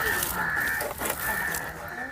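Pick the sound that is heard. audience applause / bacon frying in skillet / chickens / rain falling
chickens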